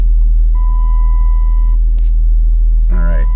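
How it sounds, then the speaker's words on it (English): A 2010 Chrysler 300 with a faulty ABS and no rear wheel speed signals is driven on a road test. A steady low engine rumble carries throughout, a thin electronic beep holds for about a second, and a voice briefly speaks near the end. "I'm going to turn off ABS diagnostics and drive it for a few seconds"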